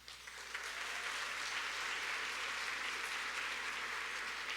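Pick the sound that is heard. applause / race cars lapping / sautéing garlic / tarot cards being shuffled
applause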